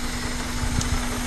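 A car engine idles steadily after a Y7 to Y8 intake manifold swap, a close, even hum with a constant drone and slight roughness, with no talking.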